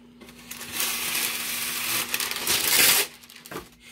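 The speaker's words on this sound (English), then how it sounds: "I'm going to use a piece of this parchment to throw over there" A sheet of parchment paper is handled close up beside a heat press, giving about three seconds of crisp crinkling and rustling that ends with a brief rustle.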